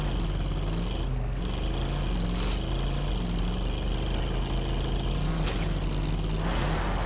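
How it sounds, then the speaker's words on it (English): Helicopter or propeller plane flying in a video game, a droning engine hum with a wavering low buzz that rises and falls in pitch, steady and moderately loud with no talking. "Oh, that's a helicopter. Or a plane."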